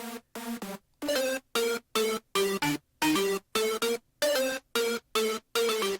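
A hardstyle gravity lead synth from FL Studio, heard without Pro-Q EQ, plays choppy, loud gated stabs in a fast, steady rhythm with bright, dense harmonics.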